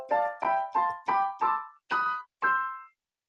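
Seven separate short piano-like chords, each struck crisply and left to ring briefly, played in a steady pulse with a slight pause before the last two, with an altered seventh giving a slightly sour tone.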